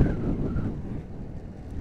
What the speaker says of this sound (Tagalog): problema dito, malakas yung hangin